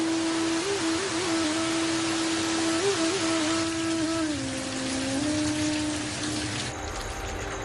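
Monsoon rain falling in Mumbai, a constant dense hiss that holds steady throughout, with a faint sustained tone running underneath.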